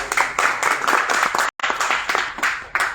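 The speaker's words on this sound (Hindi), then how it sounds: "इस पर जोरदार तालियां, बहुत मेहनत की।" Loud clapping from attendees at a large meeting of outsourced employees, uneven bursts of many hands with a brief cut to silence midway before the applause resumes.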